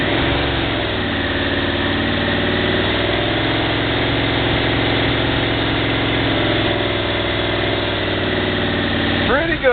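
A Yamaha Venture motorcycle engine idles steadily at close range with an even, low rumble while its carburetors are synchronized, and the tone stays constant throughout.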